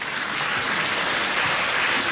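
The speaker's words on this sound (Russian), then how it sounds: "Ваши аплодисменты!" Loud, dense applause from a concert audience greeting a singer, a steady wash of clapping that holds without a break.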